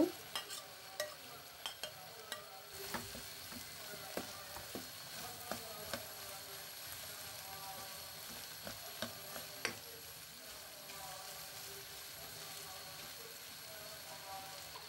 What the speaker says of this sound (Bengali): আমার মাংস আর সসেসগুলো একটু আমি ফ্রাই করে নিচ্ছি